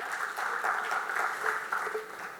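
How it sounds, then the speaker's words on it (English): Audience at a panel discussion on beauty and personal care brands applauding to welcome the moderator, a dense, sustained wash of many hands clapping at moderate distance, steady for the whole stretch. "Can we have a round of applause to welcome our moderator?"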